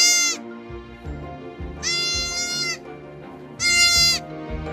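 Two newborn baby goats in a goat barn bleat loudly three times, with high, quavering cries spaced about two seconds apart and soft shuffling between them.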